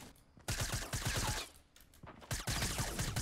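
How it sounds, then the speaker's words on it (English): Rapid bursts of suppressed pistol and SMG gunfire in a Fortnite Battle Royale match, several clustered volleys of sharp, close shots with a brief lull in the middle before firing resumes. "Oh, he had a suppressed pistol too."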